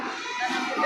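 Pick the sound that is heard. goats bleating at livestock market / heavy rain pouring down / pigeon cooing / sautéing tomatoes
goats bleating at livestock market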